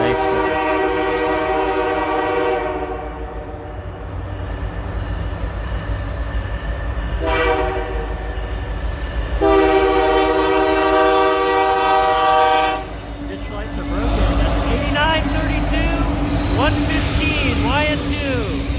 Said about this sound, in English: And this train's on its brakes because it's speeding.